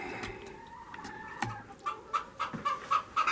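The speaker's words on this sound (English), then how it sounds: "the chickens are noisy today" Chickens cluck in a steady series of short, repeated calls, growing more frequent toward the end, over a soft constant background hum.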